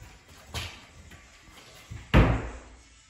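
An interior door, just installed and shimmed level, swings shut with a loud close-up thud, preceded by a softer bump and light handling noises, with no talking.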